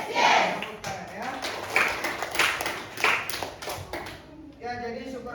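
A class claps hands in a school computer lab, a scattered burst of claps and taps that comes and goes over a few seconds, with voices around it.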